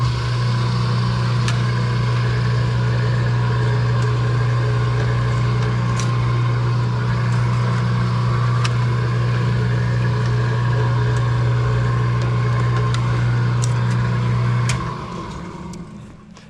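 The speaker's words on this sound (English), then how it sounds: "we'll run this right through the lock former" Sheet metal for ductwork feeds through a lock former machine, a loud continuous motor drone with a strong low hum and occasional metallic ticks, running steadily before winding down at the end.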